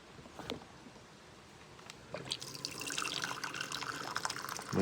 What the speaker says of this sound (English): put the hot water in.